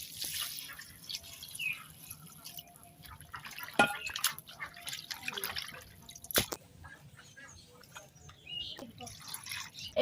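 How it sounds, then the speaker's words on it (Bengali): Fresh leafy greens are rinsed in water for pakora, with steady dripping and splashing close by and a couple of sharp clatters from hands and a bowl. "এবার আমি শাকগুলো ভালো করে ধুয়ে নেব।"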